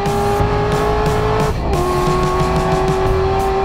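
Corvette C7 Stingray with an LT1 V8 engine driving past: a loud, steady engine drone with a sustained high whine, a brief dip midway, then continuing strong with no talk.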